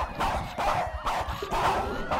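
Dogs bark repeatedly in a zombie survival video game, several sharp yaps in quick succession over a steady background of game sound.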